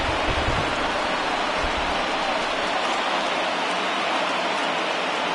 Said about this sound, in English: It's raining cats and dogs out there.